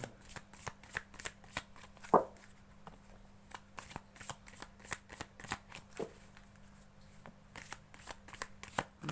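Tarot cards are shuffled in a rapid series of crisp, quiet riffling snaps with one louder flick, repeating steadily and alone with no talk.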